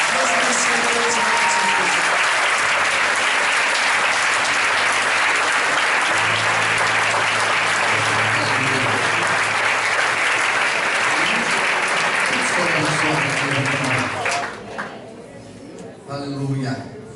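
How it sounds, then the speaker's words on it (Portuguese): A church congregation applauds loudly and steadily for about fourteen seconds, a dense wash of clapping with voices mixed in, then it thins out abruptly and trails off. "Em nome de Jesus, aplauda Ele"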